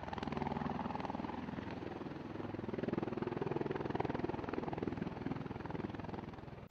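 A helicopter's rotor thumps steadily and continuously, a loud droning chop with engine whine, no voices.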